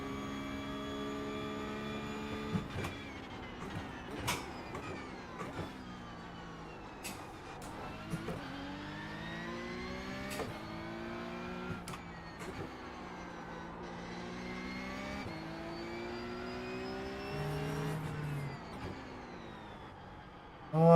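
A Porsche Cup car engine in the iRacing sim drones steadily at high revs, its pitch climbing and dropping through gear changes, with a few sharp clicks and bumps, faint and continuous with no talk.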